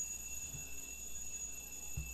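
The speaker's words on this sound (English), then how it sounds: "there's an alarm going off, and I don't know where it's coming from" A nearby electronic alarm sounds as steady, high-pitched tones that ring continuously at moderate volume, with faint low thumps underneath.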